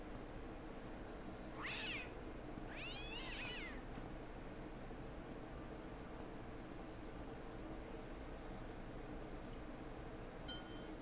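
Cat meowing in Broken Sword: Shadow of the Templars, two clear meows in close succession over a low, steady background hum.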